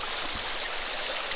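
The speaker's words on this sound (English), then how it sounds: "the water is moving real fast and it's got a little bit of a drop to it" Fast-moving water of the Kern River tumbling over a small drop, a steady, close, broadband rushing hiss with no breaks.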